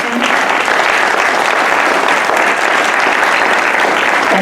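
Steady, loud applause from a large crowd at a community symposium, dense clapping that fills the space evenly for several seconds without a break.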